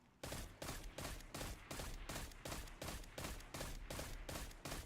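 Rapid bursts of pulse rifle fire from a first-person shooter, Destiny 2, sound in a steady rhythmic stream of loud, evenly spaced shots with no talk.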